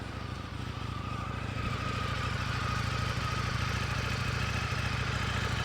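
An Indian motorcycle with an aftermarket exhaust idles steadily nearby, giving a continuous low, even rumble throughout.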